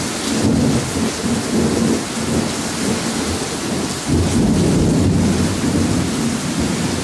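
Strong thunderstorm over central Oklahoma with heavy flooding rain pouring steadily and low rumbling thunder rolling through in surges, loud and close, with no voices.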